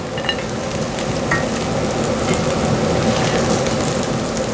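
Pork and bacon hit a hot pan and fry with a loud, steady sizzle and crackle, dense and continuous throughout with faint stirring scrapes and no talking.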